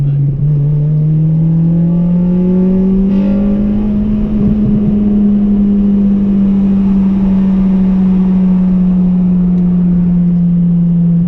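A 2004 facelift EP3 Honda Civic Type R engine droning steadily at high revs as VTEC engages around 5,500 rpm, a smooth rising-then-holding whine, loud and close, heard from inside the car.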